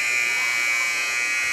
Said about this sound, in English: So there's the buzzer